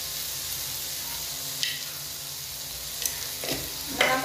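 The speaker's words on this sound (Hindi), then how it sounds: "नमक डाल के भून लेते हैं कम ताव करके" Mutton fries with salt over low heat for curry, a steady close sizzle with occasional spatula scrapes and clinks, no voices.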